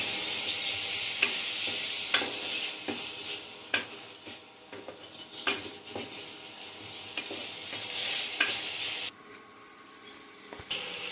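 Tomatoes cooking with a little salt in a pan for rohu fish head moong dal, sizzling steadily while a utensil stirs and scrapes with repeated sharp knocks against the pan.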